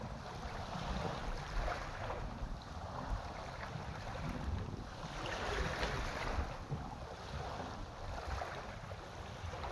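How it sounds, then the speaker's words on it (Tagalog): Sea waves surging and spraying against the shore, a steady broadband wash with slow swells of louder surf and wind noise throughout, no voices. "Bumubuga-buga na ang dagat."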